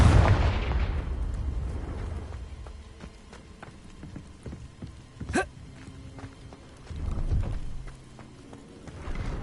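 Confringo fire curse cast in Hogwarts Legacy, heard as a sharp, brief fiery burst and blast near the middle of ambient game sound, amid scattered footsteps and low rumbling.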